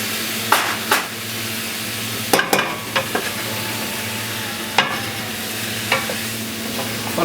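Spices and vegetables cooking in a pan before mutton goes in, a steady sizzle punctuated by several sharp scraping and clanking stirs at irregular intervals.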